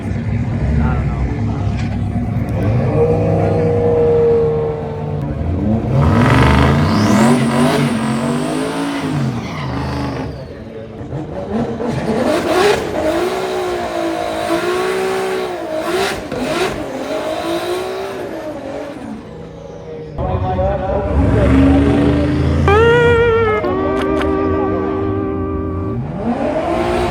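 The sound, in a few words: drag car engine revving and racing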